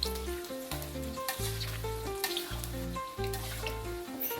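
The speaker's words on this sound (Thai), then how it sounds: "ลงมาทอด อยู่ในน้ำมันก่อนเลยนะครับน้ำมันท่วมๆเลย ใช้ไฟกลางนะครับ แล้วก็ทอด" Eggplant pieces deep-frying in plenty of oil over medium heat, a close, continuous bubbling sizzle with a few louder crackles, and no voices.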